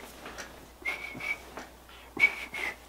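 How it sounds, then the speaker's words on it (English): Whistling from a music video, with short whistled phrases in two bursts separated by a pause and a faint beat underneath. "He was just there whistling"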